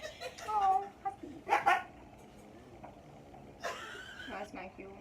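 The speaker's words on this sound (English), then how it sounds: "Oh, huskies." Huskies bark in a few short bursts, with whimpers and yips, under a person talking close by.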